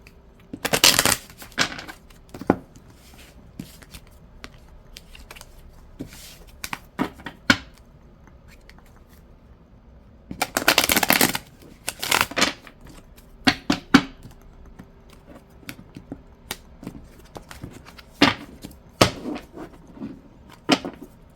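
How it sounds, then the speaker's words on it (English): A deck of tarot cards is shuffled hard by hand. Bursts of loud, close riffling and flicking come in separate clusters, with short quiet gaps between them. "I'm going to shuffle these really good"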